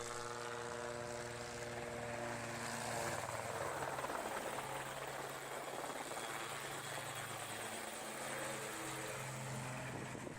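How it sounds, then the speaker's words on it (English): HC-02 helicopter lifting off near Verpillet, a steady loud rotor and turbine roar with a pulsing blade chop that swells slightly as it climbs, continuous and without voices throughout. "the helicopter lifts off from the ground"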